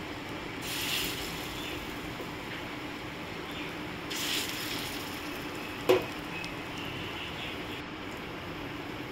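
Food frying in a pan in a home kitchen gives a steady, low sizzling hiss, with a single sharp utensil clatter close by about two-thirds of the way through.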